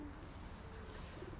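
Pigeons or doves cooing outdoors, soft low murmuring coos repeating faintly through steady background ambience.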